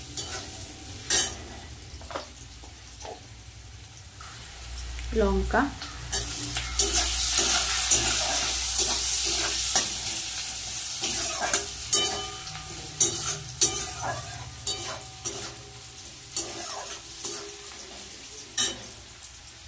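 Onion fries in a pan with a steady sizzle that swells in the middle, punctuated by repeated scraping and clanking of a spatula stirring; a voice briefly speaks once.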